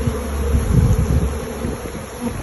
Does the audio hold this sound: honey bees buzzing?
yes